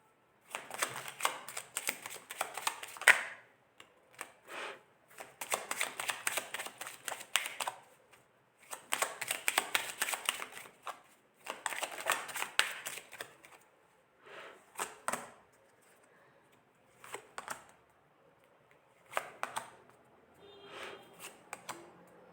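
Tarot-style cards being shuffled in repeated bursts of soft riffling and flicking, each lasting a couple of seconds, separated by short quiet gaps, close and moderately quiet.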